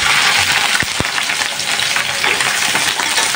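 Bitter gourd frying in a generous amount of hot oil, a dense, steady sizzle that carries on evenly, with a couple of brief knocks early on.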